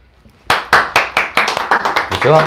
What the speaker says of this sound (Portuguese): Palmas para Pedro Sobral.